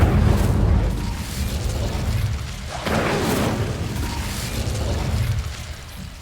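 Incendio fire spell cast in Hogwarts Legacy, heard as a loud whooshing burst of flame with booming, rumbling crackle that swells and lingers over several seconds.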